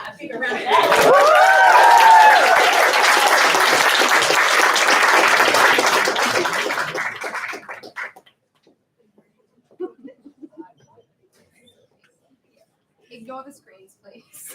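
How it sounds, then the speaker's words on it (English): An awards ceremony crowd at the 30 Under 30 Awards breaks into loud, sustained applause for several seconds, then it cuts off to near silence with a few faint scattered sounds. "I feel like you can give Kat a bigger round of applause."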